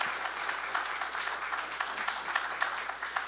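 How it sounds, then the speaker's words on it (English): A seated audience at a medical lecture series on movement disorders gives steady, even applause, a soft continuous patter of many hands at moderate distance. "Round of applause for Ms. Dr. Lang."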